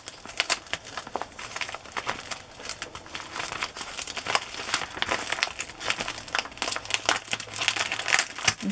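Decorative Cinderella-themed paper is crinkled and handled close up for a journal, producing continuous irregular rustles and crisp crackles.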